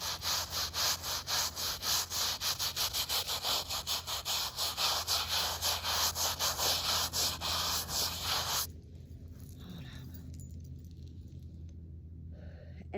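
A brush scrubs a weathered headstone in a Methodist cemetery with quick, rhythmic back-and-forth strokes, close and steady for about eight seconds before stopping and leaving quieter background.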